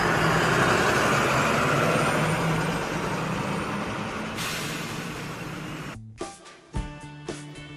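A city bus rumbling along in traffic with a steady loud engine roar, then a sharp hiss of its air brakes releasing, followed by a few thumps and clatters near the end.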